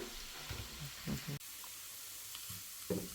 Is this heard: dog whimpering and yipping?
no